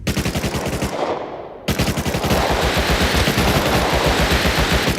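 Automatic weapon fire in the Rust video game, in an underwater lab: loud, close, rapid rhythmic bursts with a brief pause before a long continuous stream of shots.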